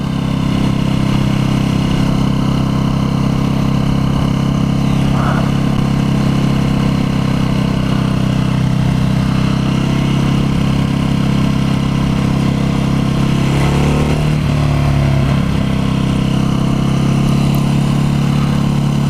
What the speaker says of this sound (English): Plus it sounds really good. It's got that V-twin torque and just an absolute blast to drive